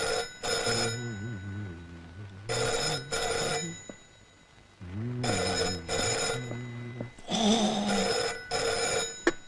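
A telephone bell rings in repeated bursts, each pair of shrill rings separated by short pauses, loud and close, with a warbling tone between the rings.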